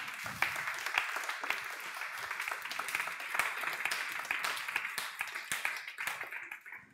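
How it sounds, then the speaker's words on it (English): Audience applause at a student pitch event, with a dense, steady patter of many hands clapping that continues throughout and tapers toward the end, heard from a moderate distance with faint voices underneath. "Congratulations to all of you, and clap your hands."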